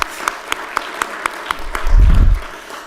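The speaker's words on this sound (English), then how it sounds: "That deserves a round of applause" Audience clapping at a county State of the County address comes as a slow, sparse, evenly spaced series of single claps, then a brief low rumble near the end.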